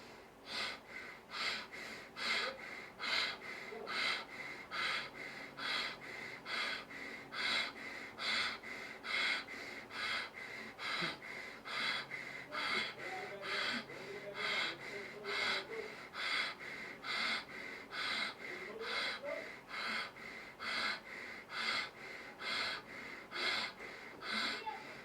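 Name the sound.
Bhastrika pranayama rapid bellows breathing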